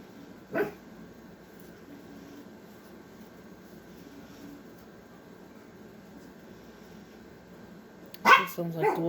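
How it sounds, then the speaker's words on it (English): Dogs bark outside a house, heard at a distance: one short bark burst early, then a louder cluster of barks near the end over a quiet, low background hum. "It sounds like dogs outside barking."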